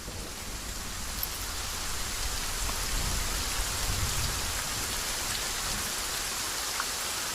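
Steady rain pours down throughout, a dense hiss with low rumbling underneath that suggests distant thunder.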